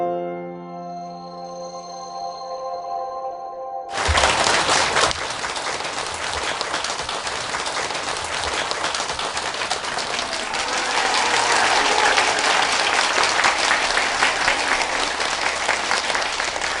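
A gathering at a spiritual talk breaks into sudden, loud, dense clapping after a held tonal sound ends, the applause continuing steadily and swelling slightly toward the end.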